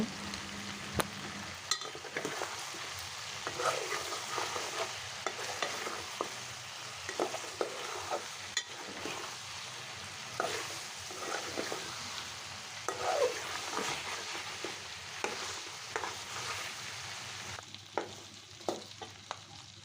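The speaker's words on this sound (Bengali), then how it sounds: "তেজপাতা দারচিনি এলাচ এবং লবঙ্গ সব মশলা দিয়ে ভাজবো" Bay leaf, cinnamon, cardamom and clove fry in hot oil over medium heat, giving a soft continuous sizzle with intermittent scraping and stirring clicks from a spoon against the pan, fairly close and without talk.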